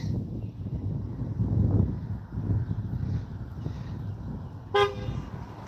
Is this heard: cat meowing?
no